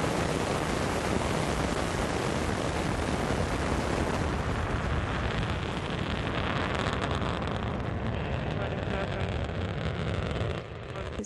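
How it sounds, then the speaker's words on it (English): A Soyuz rocket lifts off with booster ignition, a continuous loud, dense roar of broadband rumble and crackle that holds steady throughout and eases slightly at the very end. "Liftoff for the Soyuz rocket as TJ Creamer, Oleg Kotov, and Soichi Noguchi begin their journey to the International Space Station"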